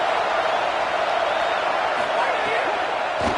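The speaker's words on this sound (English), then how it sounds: "Man, this crowd really affecting the football game." A home crowd at a Georgia vs LSU college football game roars steadily and densely throughout, a thick, continuous stadium din with no breaks.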